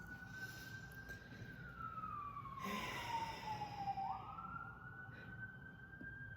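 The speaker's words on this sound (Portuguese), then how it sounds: "Sirene." A single emergency vehicle siren wailing at a distance, one slow falling and rising sweep, faint over steady low background noise.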